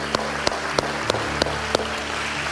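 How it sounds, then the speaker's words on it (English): A church congregation produces sharp, evenly spaced claps in a steady rhythm of roughly three per second, ringing over sustained musical tones that hold underneath. "Let's give God a round of applause."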